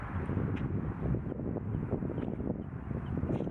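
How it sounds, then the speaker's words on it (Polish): Steady wind buffets the microphone outdoors during a field beer tasting, a continuous low rumbling roar with faint rustling and no clear speech. "Może dlatego, że po prostu wieje wiatr."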